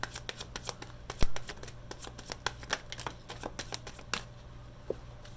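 Tarot cards shuffled by hand in a rapid run of crisp riffling clicks and flutters, close and fairly quiet, with one sharper snap early on and steady low hum beneath.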